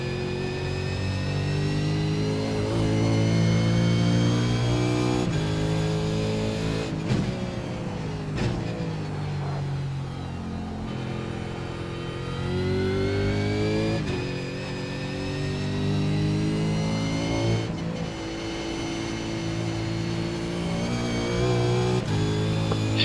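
A V8 Supercar races around Bathurst in iRacing, its engine screaming steadily through repeated rises in revs and gear changes. The loud, close engine note runs continuously with no speech.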